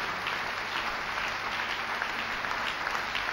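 A church congregation breaks into steady, dense applause, with a faint crowd murmur beneath, welcoming a pastor at a service in Tsévié, Togo.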